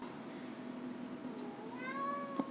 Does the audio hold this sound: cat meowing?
yes